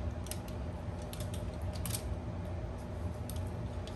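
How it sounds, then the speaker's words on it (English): A knife slices through a whole trout on a board to open it for cream cheese stuffing, giving brief crisp cutting clicks and scrapes over a steady low hum. "So I'm gonna cut it open in the middle."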